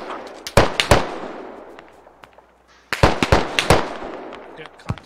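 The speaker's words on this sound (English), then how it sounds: "Oh, they're shooting" Gunfire in the video game Squad, with loud close shots in two bursts: a few sharp cracks early, a pause, then a rapid run of shots with a final one near the end. Echoing tails trail each group.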